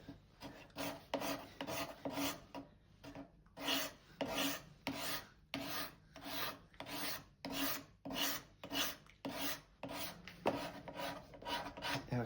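A fine, thin card scraper works over a wooden hand plane in quick repeated strokes, each a bright, dry rasping scrape, close and steady with brief gaps between passes.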